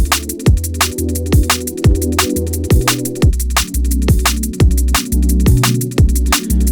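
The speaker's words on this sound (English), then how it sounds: "let's choose the saturator and put some saturation on this 808" Distorted 808 bass driven through a saturator in Ableton, part of a liquid drum and bass beat: loud, booming sliding bass notes under crisp, steady drum hits, with no talking.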